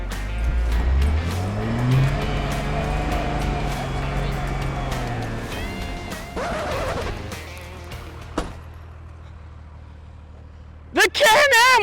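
Off-road vehicles, a Can-Am and a Ford, race side by side on dirt, their engines roaring loudly and then fading into the distance, followed by a short burst of excited voices at the end.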